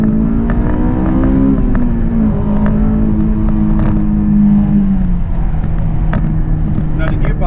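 A 2005 Honda S2000 sports car engine drones loudly from inside the cabin while driving on open roads, its pitch rising and easing slightly with throttle over a steady road rumble.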